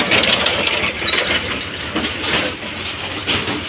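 A truck drives past on the road just outside a house, its heavy engine rumble loud and near before fading slightly and swelling again.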